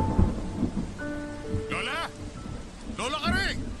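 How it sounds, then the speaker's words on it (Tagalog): A storm with thunder, heavy rain and strong wind makes a dense, steady roar. Dramatic voices cry out over it twice, and there are brief tonal music sounds. "habang humahagupit ang bagyo"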